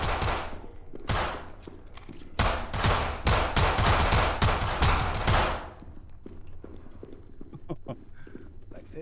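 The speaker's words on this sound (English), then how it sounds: "I hear shooting." Rapid bursts of gunfire in an Unreal Engine 4 first-person shooter game, loud volleys cracking and rattling for several seconds, then fading to scattered distant shots.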